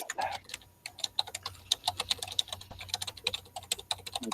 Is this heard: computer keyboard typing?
yes